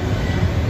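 Freight train of mostly empty TTGX auto rack cars rolling past at close range, a steady loud low rumble with continuous rattling and no pauses.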